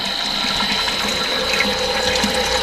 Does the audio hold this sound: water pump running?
yes